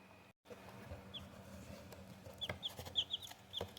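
Two-day-old barred rock chicks, faint high-pitched peeps and cheeps coming in short scattered bursts over a low background hum, quiet and fairly close.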